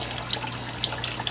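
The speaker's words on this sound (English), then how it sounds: "I'm washing out the pot from that." Water runs from a kitchen tap while a pot used for Thanksgiving stuffing is rinsed out, a brief, faint trickle with small splashes and a low background hum.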